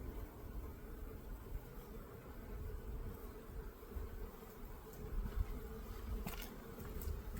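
Honeybees buzz in a dense, continuous low drone around an opened hive during a spring inspection, steady and fairly faint, with no talking.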